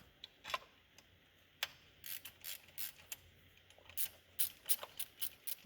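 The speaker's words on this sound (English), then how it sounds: "And we got the 2 mounting bolts for this bracket, which are both the 12mm. So I'll go ahead and get those off." A ratchet wrench loosening 12mm bracket mounting bolts on an engine-side ground bracket, with quiet, irregular bursts of sharp clicking and a few metallic taps, close up and without speech.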